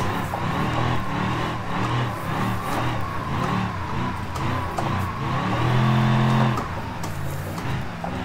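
A car engine in the BeamNG.drive driving game revs and holds high pitch while drifting, the note rising and falling with throttle changes and a sustained surge near the end, loud and continuous with no talk.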